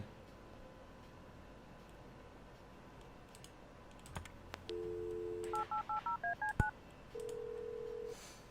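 Telephone dialing in the game Kathy Rain: after quiet background clicks, a steady tone sounds, then a quick run of about seven short keypad beeps, followed by another sustained tone, clear and close with no talk.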